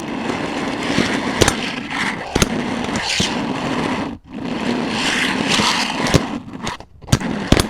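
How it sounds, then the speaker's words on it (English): Pyro urethane wheels on a fingerboard roll across a surface in a steady, close grinding whir, broken by sharp clacks and taps of the board landing and hitting edges, with a brief pause partway through. "Okay, next up we have the pyro urethane wheels right here."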